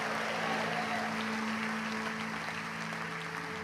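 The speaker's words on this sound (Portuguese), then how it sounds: "Dê mais um aplauso ao Senhor nesta noite." A church congregation applauds during an evening worship service, a steady wash of clapping heard from a distance beneath a faint sustained hum.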